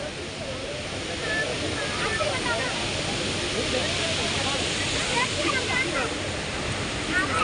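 A busy waterfall crowded with holiday visitors during the Christmas vacation, its steady broadband roar of falling water running the whole time, with faint crowd chatter and bird calls mixed in.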